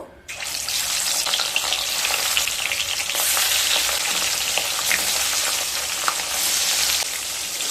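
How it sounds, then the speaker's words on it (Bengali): Pieces of rohu fish fry in hot oil with a loud, steady, close sizzle that begins abruptly and holds for several seconds, with a few sharp pops and crackles along the way. "তেলটা গরম হয়ে গেছে এবার মাছগুলোকে ভেজে নেবো"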